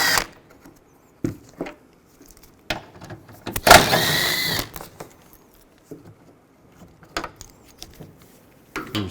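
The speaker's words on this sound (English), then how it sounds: "Use a 10mm socket. Take this bolt out right here." Bolts being worked loose with a 10mm socket while removing the headlight on a 2007-13 Chevy Avalanche: a few separate close metallic clicks and ratcheting scrapes with pauses between, one longer burst of grinding in the middle.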